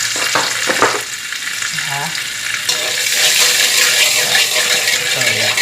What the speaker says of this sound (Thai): น้ำมันก็ร้อนแล้วถูกไหมคะ ก็ใส่น้ำมันลงไปใส่หมูลงไป